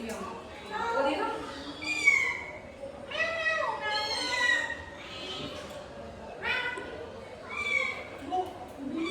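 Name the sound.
cat meowing near the house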